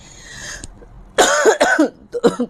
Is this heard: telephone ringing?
no